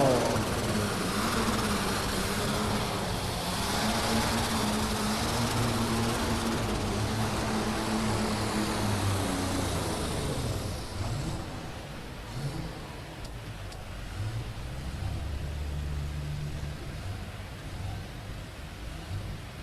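An alcohol-burning Down and Dirty pulling tractor roars loud and steady at a farm machinery show tractor pull, its engine drone shifting and easing partway through, with an announcer talking over it.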